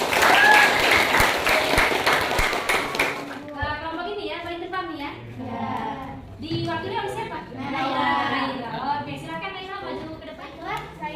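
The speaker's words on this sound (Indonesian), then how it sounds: "Sebelumnya beri tepuk tangan buat kalian." Classroom audience of university students applauding presenters, a loud burst of clapping for about three seconds that stops abruptly, followed by a person talking.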